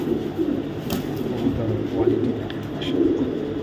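Racing pigeons coo in low, soft, repeated murmurs, several birds overlapping continuously at close range, with some faint background noise.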